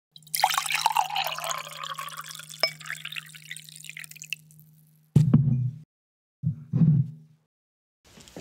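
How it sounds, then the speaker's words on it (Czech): Hot water pours over tea in a steady splashing stream for about four seconds over a low hum, followed by a few short, separate liquid splashes and drips. "proč si ten čaj vlastně zalévám horkou vodou?"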